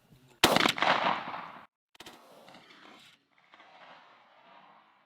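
Mossberg SA 410 semi-automatic .410 shotgun loaded with Browning TSS number 9 shot through an Indian Creek 385 choke, fired once at a 40-yard pattern target: a single sharp, loud nearby blast with a long rolling outdoor echo that fades away.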